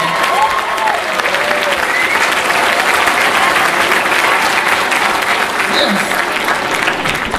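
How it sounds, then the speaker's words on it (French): Comedy show audience in a packed hall giving loud, sustained applause, a thick, continuous roar of clapping with faint voices underneath. "la première main d'applaudissement, là, c'est pour vous autres"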